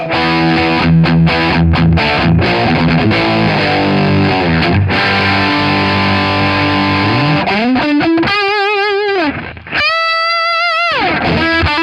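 An electric guitar through a TC Electronic Dark Matter distortion pedal chugs through tight palm-muted chords, then rings out with sustained, vibrato-laden lead notes, loud and saturated.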